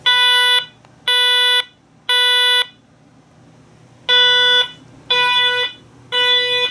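An alarm system sounder driven at 70 volts blares a loud, piercing electronic tone in a temporal pattern: three even bursts, a pause, then three more, with a faint hum in the gaps.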